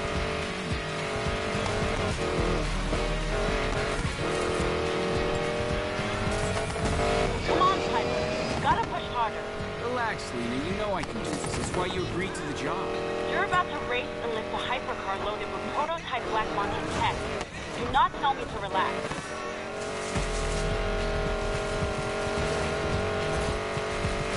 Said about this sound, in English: It's got so much power that when I'm off-road, it just spins me up.